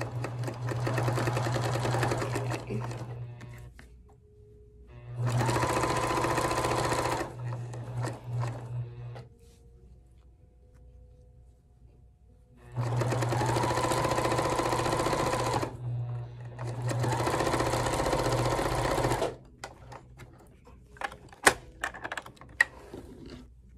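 An older sewing machine stitching fabric scraps into a dish drying mat, running in steady rapid bursts of several seconds, separated by quiet pauses with soft clicks and handling thumps.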